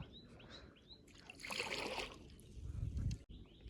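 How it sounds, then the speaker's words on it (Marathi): A small wooden boat rowed on coastal water in the Konkan, with soft splashes and a watery swish from the paddle, plus a low knock near the end, while birds chirp faintly. "आधी होडी चालवतो"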